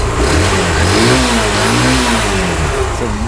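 A used self-start motorcycle engine revs loud and close, its pitch swelling and falling in smooth waves over a steady running rumble, with no talk over it.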